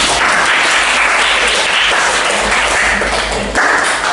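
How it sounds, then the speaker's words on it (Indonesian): Students in a classroom give a round of applause, dense steady clapping throughout, close and fairly loud. "Sekali lagi tepuk tangan buat kita semua"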